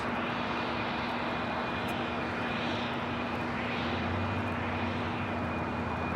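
An airliner in As One Against Cancer 2023 livery taking off at LAX, bound for Nottingham, giving a steady, broad jet engine roar with a constant high whine, sustained and loud throughout.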